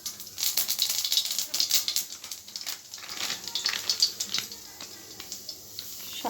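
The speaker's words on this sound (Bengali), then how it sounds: "এখন এখানে দেব কালো জিরে ফোড়ন" Nigella seeds tempering in hot oil in a kadai, a quick burst of crackling pops and sizzle that settles, close and moderately loud, no talk.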